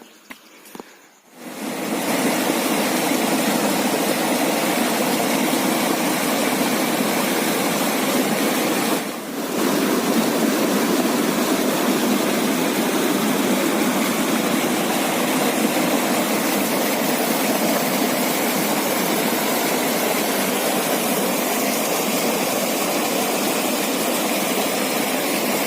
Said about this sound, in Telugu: పైన వాటర్ కిరాకు వస్తున్నాయి